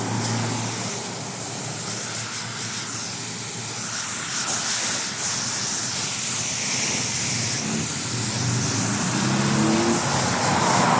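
Strong shower-type rinse spraying water from a fully automatic 3-in-1 car wash vendo, a steady loud hiss of high-pressure spray lasting throughout with no pauses.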